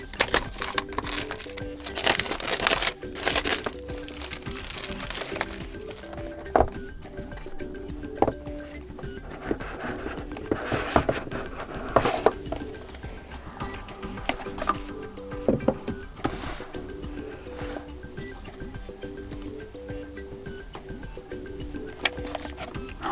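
A Realme GT 2 Pro phone box is opened by hand, with close scattered crackles and rustles of paper and cardboard plus clicks and light taps that go on for the whole stretch without talk.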